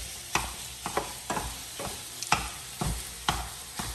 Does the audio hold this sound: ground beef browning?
yes